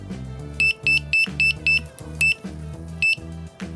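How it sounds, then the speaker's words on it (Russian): A DIY soldered kit alarm clock beeps in short, evenly spaced high electronic tones, about ten beeps, loud and close over a low hum. "Что-то пищит и что-то работает."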